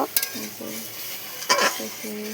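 Mustard-poppy spice paste of white mustard and poppy seeds frying in a pan, a soft sizzle with a few scraping stirs of a spoon against the metal.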